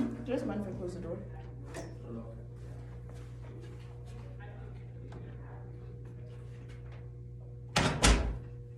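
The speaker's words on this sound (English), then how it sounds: "Do you guys mind if I close the door?" A room door is pushed shut near the end, a single short, fairly loud thud after a stretch of quiet room noise, with faint murmuring voices earlier at the start of a debate round.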